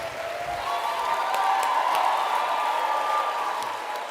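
A large crowd at the opening plenary of the Erasmus Generation Meeting in Ancona applauds and cheers steadily, a dense wash of clapping with sustained voices and whoops that carries evenly throughout.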